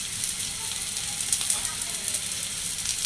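Frying food sizzling steadily in a pan, a constant bright hiss with faint stirring scrapes, alongside fish and Malabar spinach with salt and cumin.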